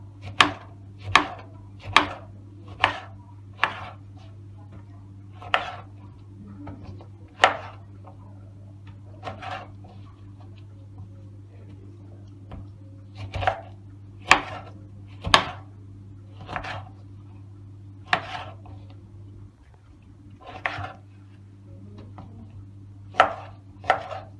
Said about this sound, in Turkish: Hepsini bu şekilde doğruyoruz